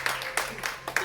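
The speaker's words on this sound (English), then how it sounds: "So audience, go ahead and give them a nice big round of applause." Applause from the audience at a college stage hypnosis show, sparse rhythmic clapping bursts rising and falling, with a voice speaking over it.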